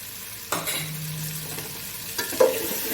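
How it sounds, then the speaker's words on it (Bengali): Dry ground coconut is stir-fried into a vegetarian khichuri with new potatoes and cauliflower, a soft sizzle under two or three sharp spatula scrapes and clinks against the pot, close and unaccompanied by speech. "দিয়ে ভালো করে কষিয়ে নেব"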